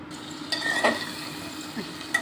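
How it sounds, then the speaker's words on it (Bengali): Spiced masala with drumstick stems and potatoes stir-fried in a pan, a short burst of soft sizzling with a couple of quick utensil scrapes and clinks, no speech. "ভালোভাবে নেড়ে চেড়ে কষে নিলাম"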